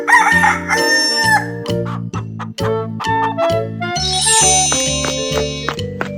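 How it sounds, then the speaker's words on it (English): Chicken clucking and crowing in a 3D animal slide game, cartoon-style fowl calls over a bouncy repeating music track. "chick"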